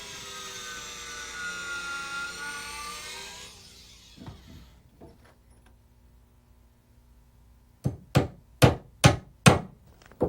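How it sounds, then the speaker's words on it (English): Hammer strikes driving nails flush into wooden deck boards at a splice, first a few scattered knocks after a steady machine drone fades, then five loud, evenly spaced blows close by. "We hammer the nail heads flush into the surface of the wood."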